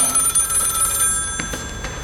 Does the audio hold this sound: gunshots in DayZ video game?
no